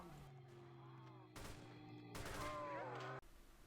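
Bursts of rapid automatic fire from a DP-27 machine gun in the Roblox game Project Lazarus, two loud chattering volleys over steady background game tones.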